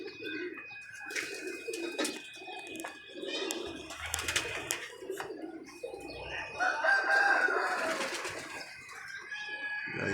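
Pigeons flying from a rooftop cooing softly alongside other bird calls, with a rooster crowing at one point, against a busy outdoor background.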